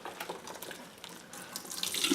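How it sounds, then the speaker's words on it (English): Water pours and splashes in a sink while gloves are rinsed out, a steady faint running stream rising slightly toward the end, with no voices. "you're going to have to dump all the water out and rinse all this off"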